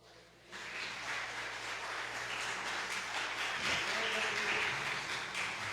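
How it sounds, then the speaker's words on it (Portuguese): A church congregation applauding during a Portuguese-language sermon, a steady dense wash of clapping that starts abruptly and holds at an even level throughout, with some voices mixed in. "Você pode aplaudir o Senhor?"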